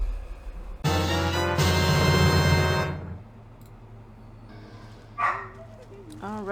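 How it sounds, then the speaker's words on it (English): Dogs barking in the Wytchwood video game village at night, a loud run of repeated barks and yips for a couple of seconds, then quieter with a short whimper-like sound and someone talking. "The dogs will not stop barking"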